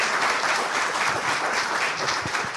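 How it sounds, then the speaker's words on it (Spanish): Audience applause after a real estate broker training talk, a dense steady wash of many hands clapping throughout, fairly loud and continuous with no pauses. "Un aplauso."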